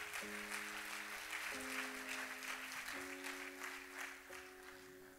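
A church congregation applauds, a broad wash of clapping heard fairly faintly beneath sustained organ-like chords that shift every second or so.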